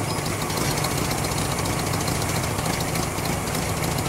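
A custom-built VW car engine runs steadily after being put in gear, a continuous loud low rumble with a knocking, vibrating idle and no speech over it.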